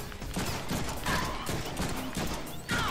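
Gunfire in the Deadpool video game, a short dense stretch of rapid shots and impacts mixed with mechanical clatter, loud and continuous for about three seconds.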